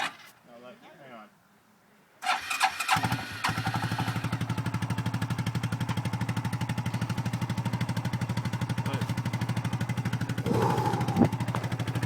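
A 1992 Suzuki Quadrunner ATV cranks briefly after a quiet start, then its engine catches on a cold start and settles into a steady, loud, chugging idle that runs to the end.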